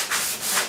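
Sanding block with 180-grit paper rubbing over primer on the rust-pitted roof of a 1969 Chevrolet C10 truck, two broad strokes in quick succession, close and steady with no talk.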